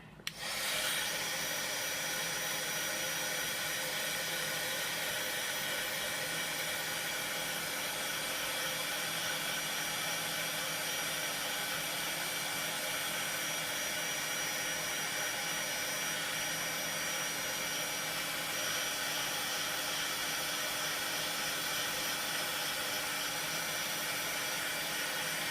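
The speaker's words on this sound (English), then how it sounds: "now I'm going to grab my heat gun again here" A heat gun blows steadily to shrink heat-shrink tubing on a custom USB cable, a continuous loud airy whoosh with a faint whine that runs unbroken from start to finish, with no talking.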